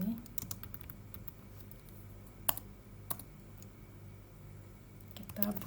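Computer keyboard keys tapped while writing string variable code, soft scattered clicks with a few sharper strokes like an enter press, close but quiet under steady room noise, with a voice talking in the background.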